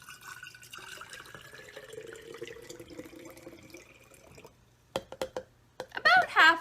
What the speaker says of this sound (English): you're going to take your mason jar. If you need a funnel, put your funnel over it. And you're going to pour some water.